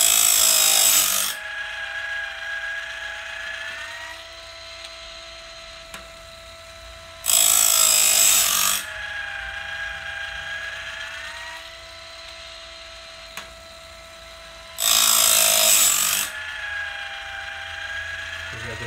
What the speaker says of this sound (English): Just gotta make the grinder go deeper.